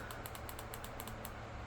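Rapid small plastic clicks from buttons pressed on a ceiling fan remote control, about a dozen quick, crisp taps close up and faint, over a low steady background hum, no voices.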